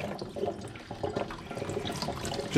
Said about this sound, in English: I just want to run some water along the upper